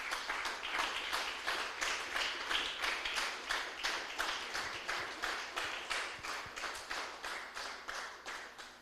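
A church congregation claps together in a strong, regular rhythm of roughly three beats per second, the unison clapping steady and even with no talking over it.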